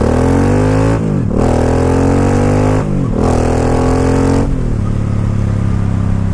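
An 800cc motorcycle pulls hard on wet, slick pavement in a loud, close engine roar that climbs in pitch through each gear, with two quick dips at the shifts before settling into a steady drone.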